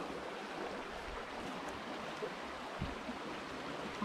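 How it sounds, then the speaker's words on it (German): Water flows below a weir and fish ladder where it joins a stream in the Bavarian Forest near Frauenau, a faint, steady rushing murmur with no voices. "da hinten fließt es dann in den Bach rein"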